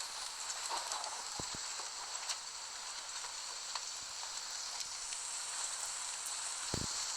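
Steady rain hiss in a tornado chasing video game, a continuous broadband wash with faint scattered ticks, evenly loud and unbroken throughout with no voices.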